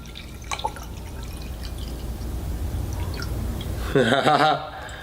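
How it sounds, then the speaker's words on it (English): Water poured into an empty glass makes a short, bright splashing burst near the end, after a stretch of quiet room noise. "let me throw in the glass without any water. Okay. So when I start pouring,"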